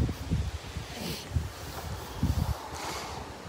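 Strong wind buffets the microphone on a farm in Prachinburi, Thailand, gusting in low rumbling bursts with leaves rustling through it, steady and fairly loud with no talk.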